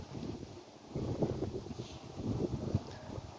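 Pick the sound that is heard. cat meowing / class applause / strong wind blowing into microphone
strong wind blowing into microphone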